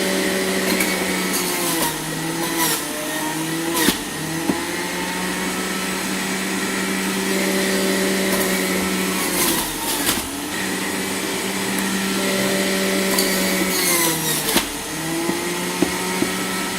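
A kitchen juicer running on its highest setting while celery is fed through, a steady loud motor whine broken by brief grinding thumps as stalks are pushed in.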